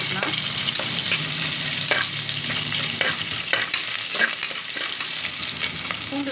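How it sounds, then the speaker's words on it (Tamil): Garlic with dried red chillies frying in hot oil for a Tamil banana-flower kootu, a steady close sizzle with scattered scrapes and stirring clicks, no talking. "பூண்டும் போட்டுக்கலாம்."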